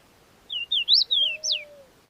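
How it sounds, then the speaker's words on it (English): Small birds chirp in a series of four or five clear, high, bright calls with short gaps between them, fairly close and alone against a quiet background. "The birds make their last passes and lift toward the trees"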